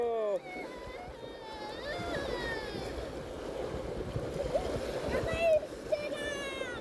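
Water splashes and churns steadily nearby as someone swims in the sea in early June, with high voices calling faintly over the sloshing.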